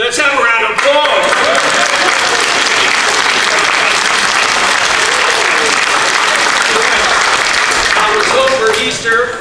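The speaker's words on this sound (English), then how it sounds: "Let's have a round of applause." Loud, dense audience applause fills a hall at a variety show after a chess checkmate act, sustained and steady throughout before tapering slightly at the end.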